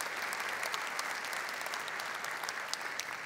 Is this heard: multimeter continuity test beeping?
no